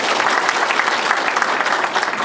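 Applause from a large audience at the 104th anniversary ceremony of the founding of the Korean Provisional Government in Daegu, a dense, steady clapping that fills the whole moment without voices.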